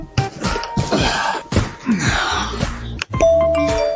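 Vivint smart doorbell camera chime ringing at a home during the holidays, a bright two-tone ding-dong recurring among thumps and clatter, mixed under music.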